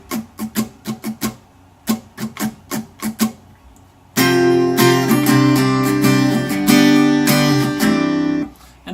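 Acoustic guitar playing the strum pattern for a song: light muted taps in a counted rhythm, then full ringing chords strummed loudly and steadily up close.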